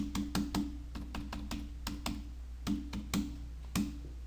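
Keys clacking on a computer keyboard in short irregular bursts, close and fairly quiet, with no voices.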